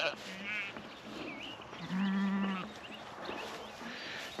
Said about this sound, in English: Now I am checking the sheep again.